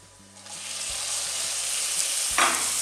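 Chopped onion and a large tomato with slit green chillies sautéing in a pan for quail dum biryani, giving a steady close sizzle with a few stirring scrapes and no voices.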